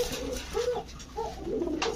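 Royal Cobra pigeons coo nearby in soft, rolling low calls, two or three phrases in quick succession over a faint background hum.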